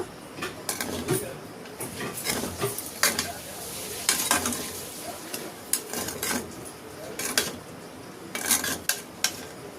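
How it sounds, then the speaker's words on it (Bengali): Ghee being stirred through chira pulao (flattened rice) in a pot, with repeated scraping and clinking of a spoon against the metal and a light sizzle underneath, in steady bursts throughout. "খুব ভালো করে নাড়াচাড়া করে ঘিটা মিশিয়ে নেব"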